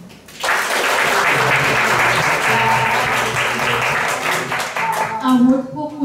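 An audience claps and applauds loudly and steadily for several seconds at a touring event in Nakhon Ratchasima, Thailand.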